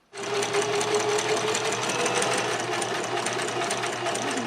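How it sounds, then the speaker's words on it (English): A sewing machine runs a zigzag stitch using a side cutter presser foot, giving a steady, close, continuous mechanical whir with rapid needle chatter for several seconds, with no talking. "The next stitch that I'm going to try this foot with is just a bog standard zigzag stitch."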